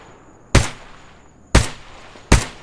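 Three sharp sniper rifle shots ring out in the video game S.T.A.L.K.E.R. GAMMA, set in the Chernobyl Exclusion Zone, spaced about a second apart, each a loud crack with a short decaying tail over a quiet background and a faint steady high tone.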